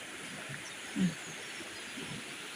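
A stream flows strongly outdoors, a steady broadband rush of water that stays constant throughout, with a brief low call standing out faintly once.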